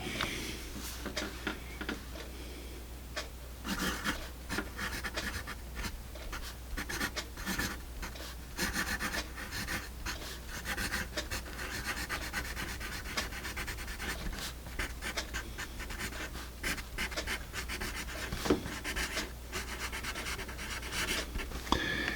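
Writing on paper with a Cra-Z-Art HB pencil: steady, close scratching and rubbing of graphite with short strokes and brief gaps, continuing quietly for over twenty seconds with no speech.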